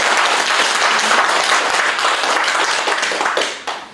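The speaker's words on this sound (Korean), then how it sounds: "박수 한번 칠까요?" Dense, lively applause from worshippers at a Buddhist dharma service in a temple, loud and continuous before trailing off at the end.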